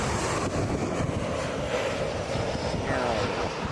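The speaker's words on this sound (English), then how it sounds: "WestJet coming in." A WestJet airliner on approach to land at Toronto Pearson gives a steady, loud, broadband engine roar that holds evenly throughout, with no breaks.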